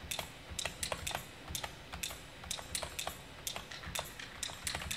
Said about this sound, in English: You can probably actually hear my keyboard, which kind of sucks because I don't want it to be loud.